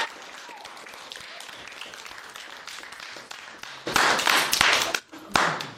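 A JROTC audience applauds a cadet at a public speaking event, with scattered light claps at first, then a louder, fuller burst of clapping that briefly dips before swelling again.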